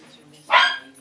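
A dog gives a single sharp bark at close range, set against quiet background hum, with a faint second dog implied by the back-and-forth of animals barking at each other.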